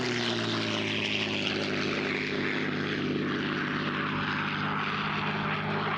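A propeller airplane with an engine of over 1,400 horsepower flies at the 2022 Selfridge Open House and Air Show, a loud, steady droning roar with a rich engine hum that holds for several seconds without talk.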